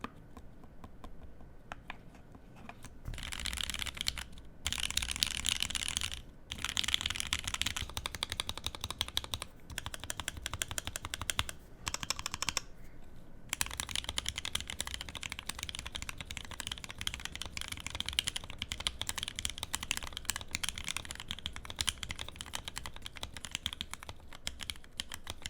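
Mechanical keyboard with a joystick built in, fairly quiet with a solid, non-hollow sound, typed on continuously at close range, a steady stream of keystrokes with short pauses and no talking.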